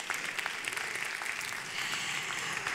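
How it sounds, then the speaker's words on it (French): Audience at a medical research conference applauding two presenters, steady mid-distance clapping with scattered sharper claps that continues evenly to the end. "Merci de les applaudir tous les 2."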